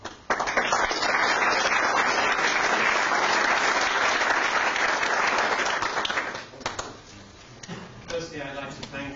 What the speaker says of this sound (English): So, a warm applause for Simon Emmerson.